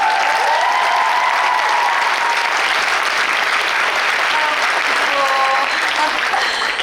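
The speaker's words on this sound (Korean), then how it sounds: "선배님을 위해서 한번 박수" Loud, sustained applause from a large theater audience, steady and dense throughout, with a few faint cheers rising above the clapping.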